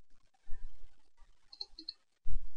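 Two quick computer mouse clicks, a double-click on a desktop in circuit simulation software, loud and close with a short pause between them, followed by a second pair of clicks after faint soft clicking, with no talk.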